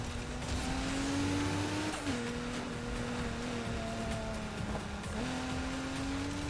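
A car drives fast, its engine drone holding a steady pitch, then dropping and rising again with the gearshifts, heard from inside the car over road rumble with no voices.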